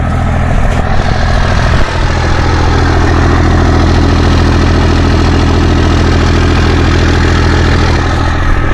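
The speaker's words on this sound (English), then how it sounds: "it's a Cummins diesel, but with that exhaust tip on there, it gives it such a deep, I don't even know what to call it." A Cummins diesel engine idles through an 8-inch exhaust tip, giving a deep, low, steady rumble that stays loud and even throughout with no voices.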